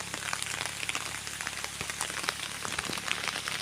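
Steady rain falling on a surface near a cave in the countryside, a dense continuous patter with scattered louder drops, no voices.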